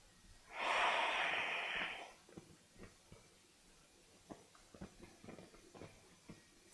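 One long, deep breath with a heavy airy rush is drawn during a partner yoga pose, then quieter, softer breathing follows with small shifting sounds, close by.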